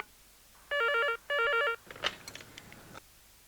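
A phone ringback tone on an outgoing call sounds twice, two evenly spaced electronic trills, followed by a few clicks and faint handling noise.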